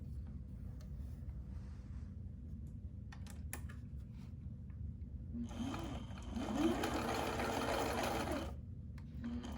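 A sewing machine stitches a fabric mask in a quiet room, running in one sustained burst of rapid mechanical whirring and clatter after several seconds of near silence broken by a couple of faint clicks.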